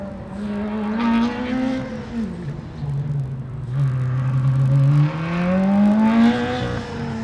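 A Formula Student race car at the FSG 2012 autocross, threading a slalom: a loud, steady engine note rising and falling in pitch as it swings through the cones, heard alone without voices.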